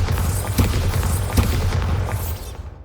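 The Bombarda spell in Hogwarts Legacy goes off as a deep, booming blast with a rumbling low thud, a couple of sharper pops inside it, and a fade into quiet at the end.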